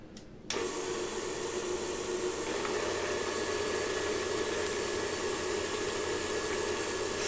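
An electric hand mixer whirs steadily as it beats egg whites with cream of tartar, switching on abruptly after a quiet start and holding a loud, even motor drone throughout with no talking.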